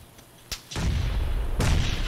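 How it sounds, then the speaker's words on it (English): A sharp pop, then a deep, loud blast from a grenade explosion in a video game, its rumbling roar sustained with a second surge of noise near the end. "Oh, he's got a grenade!"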